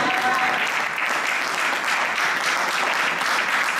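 A church congregation applauds and cheers the Lord at an evening service, a dense, steady wash of clapping and voices lasting the whole stretch with no break.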